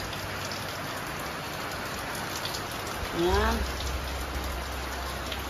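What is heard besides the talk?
rain falling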